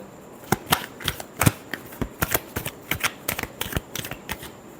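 Tarot cards being shuffled in a final shuffle during a reading, a run of crisp riffling slaps and flutters in quick bursts, close and fairly loud with no talking.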